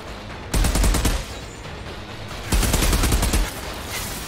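Outriders video game gunfire: two loud bursts of rapid automatic shots, each lasting about a second, separated by a short gap.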